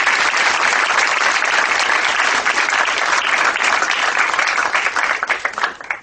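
Enthusiastic audience applause at a book talk at the Harvard Co-op Bookshop on Massachusetts Avenue, dense sustained clapping from a room full of people that thins slightly at the end.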